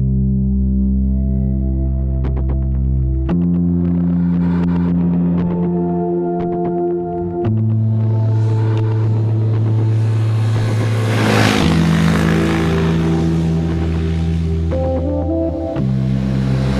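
A Honda CBR300R motorcycle engine on country roads in Cambridgeshire and Bedfordshire, holding a steady buzzing drone that steps up and down through gear changes and revs, close and loud throughout, with no talking.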